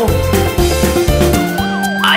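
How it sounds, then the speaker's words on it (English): Police sirens wail in a cartoon chase scene, loud and close, with rising and falling tones layered over music. "I hear police sirens!"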